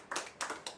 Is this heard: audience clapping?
yes